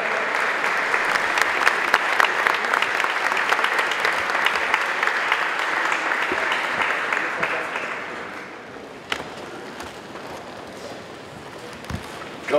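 Sustained applause from a gala dinner audience in Paris fills the room, dense and steady before fading to scattered claps near the end.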